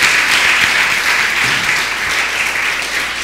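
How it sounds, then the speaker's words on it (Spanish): A church congregation gives a short burst of applause, close and loud, a dense even patter of many hands lasting a few seconds with no voices over it. "Démosle un aplauso al Señor."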